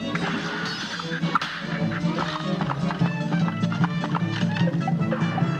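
Galloping hoofbeats and whinnies from a horse boss fight in the Cuphead video game, set against busy, jaunty game music with sharp hits and effects throughout.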